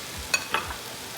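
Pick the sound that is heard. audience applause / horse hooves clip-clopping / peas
peas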